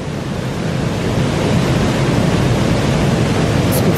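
Rydal Grot waterfall in the Lake District, a loud, steady, close roaring rush of falling water filling the whole clip without pause.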